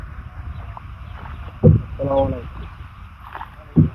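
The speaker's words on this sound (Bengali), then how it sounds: "আমরা পার হইলাম নৌকায় করে বড় নদীতে পার হইলাম" A boat crosses a large river with a low, rumbling wash of water and wind, while a few voices and sharp knocks break through intermittently.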